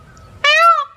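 A peacock gives one loud, harmonic, rising-and-falling call of about half a second, close and clear after a quiet start.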